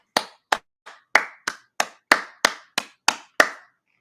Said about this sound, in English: You got me clapping shit.